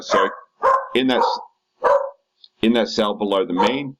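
A pet dog barks a few times in short sharp bursts near the microphone, mixed in among a person's steady talking.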